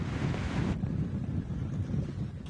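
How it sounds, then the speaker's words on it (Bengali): Strong coastal wind at Satkhira buffets the microphone in a continuous low roar, with a brief brighter rush at the start that drops away. "বৃষ্টি এবং বাতাসের যে বেগ সেটি বৃদ্ধি পাচ্ছে সাতক্ষীরার উপকূলে"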